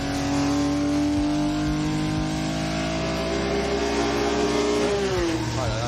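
A naturally aspirated 460 hp car engine pulls hard out of a bend on a country road, its loud, rising tone climbing steadily through the revs before a quick gear change and another surge.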